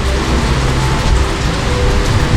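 Heavy pouring rain in St Petersburg, Florida, a steady loud downpour drumming on surfaces without a break, with faint low rumbling underneath.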